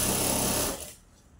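A sewing machine stitches a Kolhapuri Navuvari saree with a dense close mechanical whirr that runs briefly and then stops abruptly, leaving quiet room tone.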